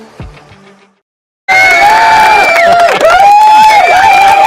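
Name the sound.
people cheering in a studio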